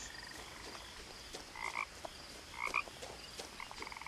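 Soft frog croaks from What Remains of Edith Finch, a few short chirpy calls clustered together against a quiet outdoor ambience, faint and somewhat distant, with no talking.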